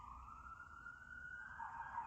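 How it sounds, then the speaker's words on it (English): An ambulance siren near an ambulance dispatch wails in a steady rising tone, fairly distant and continuous, with no voices over it. "I live near an ambulance dispatch, and it's like all day, every day."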